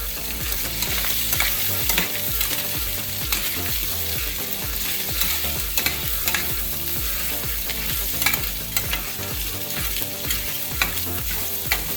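Pork pieces fry in a pan, a steady loud sizzle layered with constant scraping and clattering as they are stirred, close and unbroken, with no voices.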